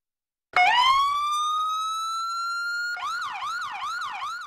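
A loud siren rises into a long steady wail, then switches to a fast warbling yelp that repeats in quick cycles, close by.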